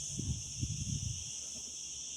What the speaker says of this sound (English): you hear the sound. Just a little bit wind, crickets.